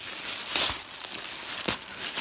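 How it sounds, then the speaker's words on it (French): Paper wrapping on a Christmas present crinkles and crumples as it is unwrapped up close, a continuous rustle with two louder tearing crackles, and no one speaking. "Ensuite, je vais déballer celui-ci."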